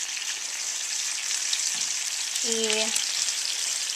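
Cutlets sizzle in almond oil in a pan, a steady close crackling and hissing fry throughout, with a brief voiced sound partway through.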